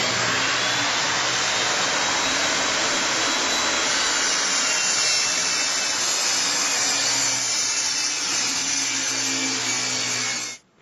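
Table saw ripping a sheet of 3/4 inch plywood: a loud, continuous whining cut holding steady for about ten seconds before the blade noise cuts off abruptly at the end.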